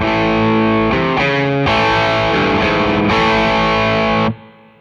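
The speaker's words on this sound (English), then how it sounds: "let's whack on the Royal Blue Overdrive." Electric guitar driven through a Mad Professor Royal Blue Overdrive pedal into a Laney LC50 amp, loud crunchy overdriven chords ringing for about four seconds before cutting off into a fading tail, with no talking.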